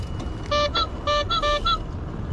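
Several short electronic horn beeps in quick bursts, a few honks close by over a low background rumble.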